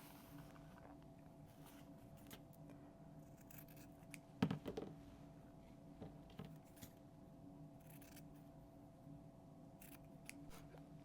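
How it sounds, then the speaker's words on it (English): Scissors trim the ends of a cotton ribbon on a Valentine candy box: one brief, crisp snip cluster near the middle of an otherwise quiet stretch, with a few faint handling rustles. "take the ends of our ribbon, trim it down"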